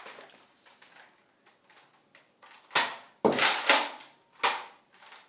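Nerf gun fired at targets in a backyard aiming game, with sharp popping shots and impact clacks standing out among quieter clicks and handling noises, and the louder hits grouped toward the end.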